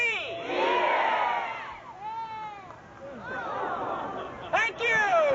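A live crowd at a tribute event shouts together on a count of three in one loud, sustained roar of many voices, which dips and then swells again into cheering.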